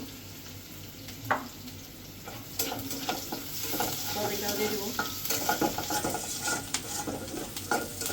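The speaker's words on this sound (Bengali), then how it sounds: "আর এদিকে যে আমি সয়াবিন ভেজে রাখছি" Soybean chunks fry and sizzle steadily in a pan while being stirred, with scraping and clinking of the spoon throughout and a short spoken phrase near the end.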